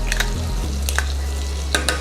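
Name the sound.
garlic cloves sizzling in a frying pan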